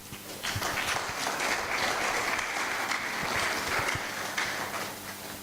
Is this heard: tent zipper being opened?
no